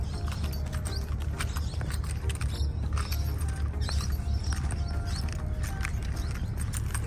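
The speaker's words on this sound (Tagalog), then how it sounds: "May kabayo pa dun, oh." A horse walks with steady clip-clopping hooves in Newport or Williamstown near Melbourne, the even beat running throughout amid street noise and creaks, with no talking.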